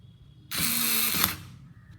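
Black and Decker KC4815 cordless screwdriver drives a screw back in, a single loud whirring burst of about one second, close by, ending with a brief ratcheting click and quiet before and after.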